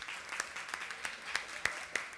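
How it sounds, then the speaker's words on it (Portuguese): Scattered, quiet hand claps from a small audience at the close of a public hearing on journalism in Maranhão, sounding distant and thin with irregular individual claps over about two seconds. "eu queria pedir uma salva de palmas ao Marcos Nogueira, que faleceu hoje."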